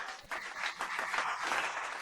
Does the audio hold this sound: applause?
yes